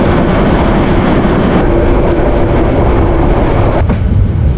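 The Cox's Bazar Express passenger train runs on the line out of Chattogram toward Cox's Bazar, giving a loud, continuous rumbling roar of wheels and carriages heard from on board, with no voices.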